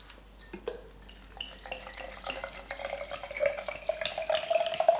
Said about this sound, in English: Water goes in next.